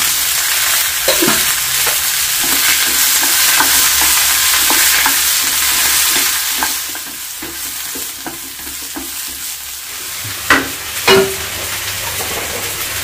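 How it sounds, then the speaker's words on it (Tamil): Onion, okra and eggplant fry in a pan with a loud continuous sizzle, while a utensil stirs with regular scraping strokes and a couple of sharper knocks near the end. "வெங்காயம் லைட்டாக வதங்கிடுச்சு. ஒரு 5-6 வெண்டைக்காய், 3 கத்திரிக்காய்."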